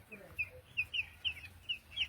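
Hens on a poultry farm holding about 1,200 to 1,300 birds cluck in short, repeated bursts roughly every quarter to half second, close and moderately loud over a low rumble.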